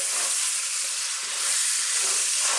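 Onion, garlic and spices fry steadily in a pot over medium heat for a spicy West Indian coconut chicken, a loud continuous sizzle with no talking.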